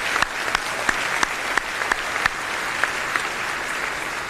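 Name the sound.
audience applause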